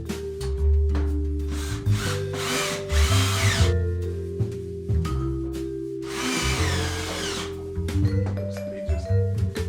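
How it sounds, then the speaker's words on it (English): A power drill drives screws while a gun cabinet is being assembled: several loud whirring bursts of varying length, separated by short pauses, close by. "I'm going to opt for my power drill right here."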